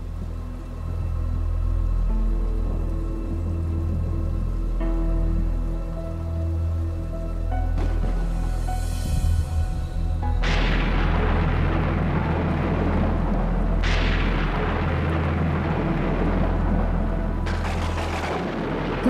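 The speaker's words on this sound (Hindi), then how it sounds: "बादल और बारिश की आवाज से वो उठ चुकी है।" Heavy, steady rain pours and patters loudly while deep rolls and sudden cracks of thunder break in several times, with no voices over it.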